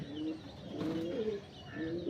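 Kachchi Filli pigeons, a cut-eyed Punjabi breed, coo steadily in a low, throaty, continuous burble, close by and moderately loud with no talking.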